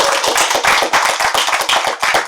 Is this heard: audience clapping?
yes